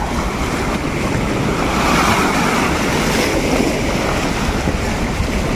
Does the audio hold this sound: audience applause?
no